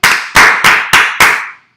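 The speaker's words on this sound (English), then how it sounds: "5 claps for Erica." Five loud, crisp group claps in steady rhythm from a crowd gathered in Nashville, each a sharp burst with a short tail, close and alone without talk.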